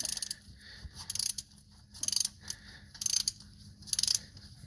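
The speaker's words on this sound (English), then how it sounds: "Now try and get this plug out, 12mm socket." A ratchet on a 12mm socket clicks in quick bursts while loosening a plug on a TD42 engine, several rhythmic ratcheting runs with pauses, close and fairly quiet.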